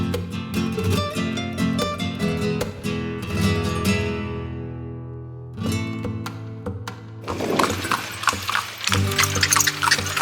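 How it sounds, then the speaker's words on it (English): A horse clip-clops along a street in Vigan in the Philippines, its hooves striking in a quick, even rhythm. A louder rushing noise takes over near the end. "That is a beautiful horse."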